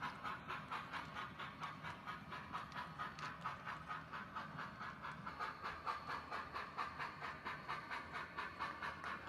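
A quiet, rhythmic steam-engine chuff with hissing, repeating steadily like a small locomotive running at an even pace, without speech.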